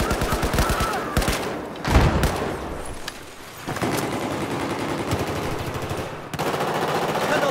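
Rapid machine gun bursts in the video game Battlefield 4, loud and close, in several volleys separated by short pauses, with booming impacts mixed in.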